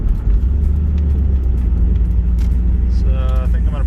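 A Volvo 240 engine pulls hard on the road, a loud, steady low rumble filling the whole stretch. Near the end a voice speaks over the drone.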